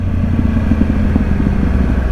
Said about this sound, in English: The burble that comes out of these cans